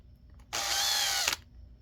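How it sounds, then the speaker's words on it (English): A small power drill fitted with a 2mm bit runs in one steady whine of just under a second. It works on the frame of Ray-Ban Meta Gen 2 glasses, with near-silence before and after. "And then we will go to the 2mm drill bit"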